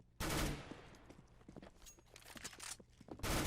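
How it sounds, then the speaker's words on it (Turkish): Gunfire in CS:GO, single rounds fired one at a time in quick succession as sharp cracks, bracketed by louder bursts at the start and end. "Pıtır pıtır tek tek mermi atıyor"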